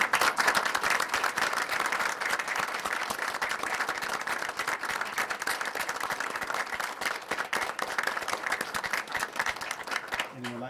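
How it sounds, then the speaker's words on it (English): Loud, sustained applause fills a city council meeting as the room gives a standing ovation, dense clapping continuing steadily throughout with no break. "May I please have a standing ovation for and an applause for him."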